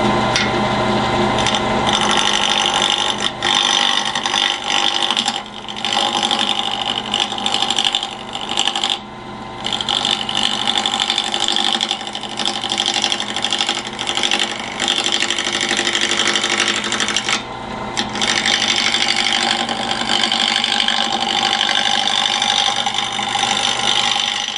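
Wood lathe spinning a square bottle stopper blank being roughed toward a Celtic knot design, a steady loud mechanical whir with rattling and gear-like chatter running almost continuously, briefly dipping a few times.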